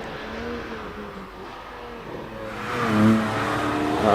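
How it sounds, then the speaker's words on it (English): Porsche Boxster GTS 4-litre climbing a hillclimb course at speed, its engine note rising and falling through gear changes and growing louder as it nears, heard alone without talk. "Behind him is Steve Lyle in the Porsche Boxster GTS 4-litre machine"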